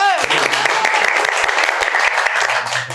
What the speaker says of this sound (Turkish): Ve alkış!